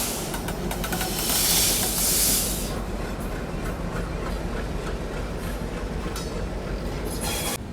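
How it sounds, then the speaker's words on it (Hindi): A Lalitgram–Saharsa Rajyarani Express train pulls away with a steady rumble of rolling railcars and wheels, with bursts of hissing and high wheel squeal near the start and again at the end. "फाइनली 11:50 में वापस अपनी ट्रेन निकल चुकी है।"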